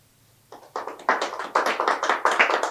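A burst of audience applause starts after a quiet moment, scattered at first and then swelling into steady, fairly loud clapping from a crowd.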